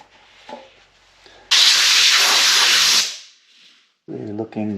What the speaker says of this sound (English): and then we'll blow it out.